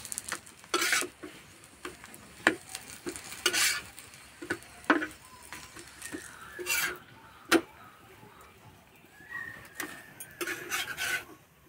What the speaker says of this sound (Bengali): হালকা আঁচে ভালো করে ভেজে নেব।